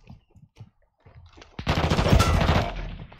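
Video game weapon fire: a few soft scattered taps, then a loud sustained burst of rapid automatic gunfire lasting over a second, close and dense.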